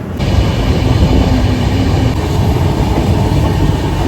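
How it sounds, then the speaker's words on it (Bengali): A train rumbles steadily along the rails approaching Haridwar Junction, a continuous loud low roar with rattling carriage noise throughout, heard from inside the moving train. "এখন আমাদের ট্রেন ঢুকবে হরিদ্বার জাংশনে।"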